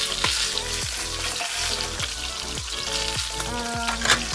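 Fish fries in hot oil in a pan for escabeche, a close, steady sizzle with repeated crackles and spatters, a few light scrapes and knocks from the pan recurring through it.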